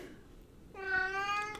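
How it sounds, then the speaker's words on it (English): Cleo the cat lets out a single drawn-out meow in the middle of the night in a pet battle game, close and clear, rising after a brief quiet lead-in. "And then you got Cleo still meowing in the middle of the night."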